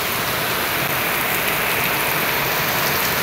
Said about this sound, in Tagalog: kasi ang lakas-lakas ng ulan